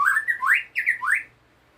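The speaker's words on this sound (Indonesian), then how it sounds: "murai batu dia ini kan udah gacor, ngukluk atau monoton ya" A white-rumped shama (murai batu) calls in a monotonous run of clear, rising whistled notes, loud and close, and stops after about a second.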